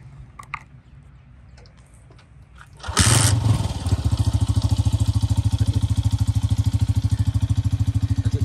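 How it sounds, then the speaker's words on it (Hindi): Quiet idle clatter, then a sudden burst as a 2022 Honda CG 125 motorcycle engine fires up and settles into a loud, rapid, steady putter. "अब हम लोग जो है वो बाइक को स्टार्ट करते हैं"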